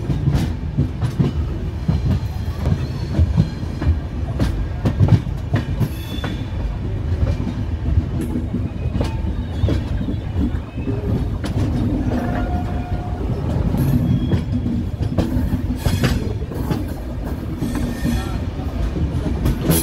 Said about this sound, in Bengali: একে বেঁকে ট্রেনটি বেরিয়ে আসছে বন্ধুরা, আস্তে আস্তে একে বেঁকে বেরোচ্ছে স্টেশন ছেড়ে।